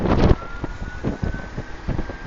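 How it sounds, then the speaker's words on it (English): Headwind buffeting a rider's microphone during a road cycling race, gusty rumbling bursts rising and falling under faint steady tone, close and moderately loud with no talking. "So seeing a little bit of headwind here."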